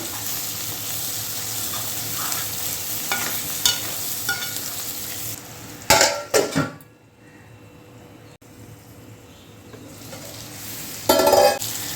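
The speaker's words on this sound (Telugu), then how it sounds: "ఈ ఆయిల్లో వేయించేసుకుందాం" Eggs frying in hot oil for a prawn and egg curry, a steady loud sizzle with scraping stirring bursts and utensil clinks, briefly quieting before the sizzle returns.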